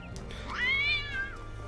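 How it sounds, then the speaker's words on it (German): A cat in the video game The Talos Principle 2 gives one rising and falling meow lasting about a second over a steady low background hum. "Haha, eine Katze."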